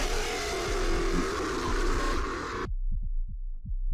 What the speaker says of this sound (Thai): ทำไมเสียงหัวใจเต้นอะมีตัวอะไรอยู่แถวนี้เหรอ